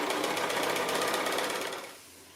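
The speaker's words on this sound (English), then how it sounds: "I'm just going to go ahead now and stitch these borders on." Sewing machine running fast and steady while stitching batik fabric borders onto a quilt, a close, even mechanical whir that slows and stops near the end, with no talking.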